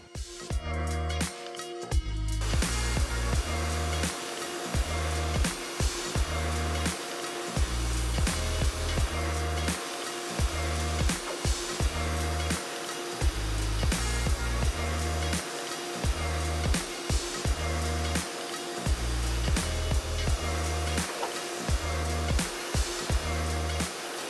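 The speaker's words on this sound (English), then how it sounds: "while using the drill brush, you don't want to push down the carpet because you could damage the fibers" A drill brush whirs and scrubs across car carpet, a steady motorized drone with rhythmic pulsing as it is worked lightly over the fibers, close and continuous.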